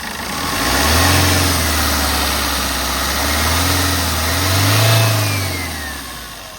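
A 2016 Maruti Suzuki Ritz LDi diesel engine revs up loudly twice from a steady idle, rising and falling in two broad swells close by, with no talk over it.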